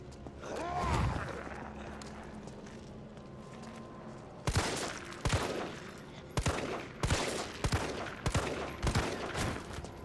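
Gunshots in the Resident Evil 3 remake, a sharp impact early on, then a string of loud, separate cracking shots fired in irregular quick succession, close and punchy, with faint game ambience between them.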